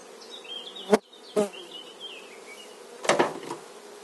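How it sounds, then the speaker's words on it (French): Honeybees buzzing around an opened beehive, a wavering high drone of wings weaving past up close, broken by a few sharp knocks from handling the hive. "c'est rajouter des nourrices d'une autre colonie"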